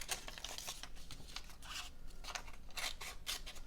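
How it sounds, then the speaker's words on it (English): Scissors snip through paper for an autumn collage, a quick run of close, crisp cuts repeating in an uneven rhythm with light rustling between them, quiet and with no talking. "we're going to cut this in half."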